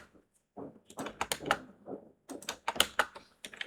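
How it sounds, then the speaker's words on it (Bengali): Computer keyboard keys clicking in short bursts, with crisp taps clustered around the middle and end, close and fairly faint, with quiet gaps between. "সেম ভাবে আমি এখানে এন্টার প্রেস করতেছি"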